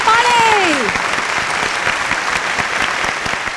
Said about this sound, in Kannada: ಮತ್ತೊಮ್ಮೆ ದಾವಣಗೆರೆಗೆ ಜೋರು ಚಪ್ಪಾಳೆ.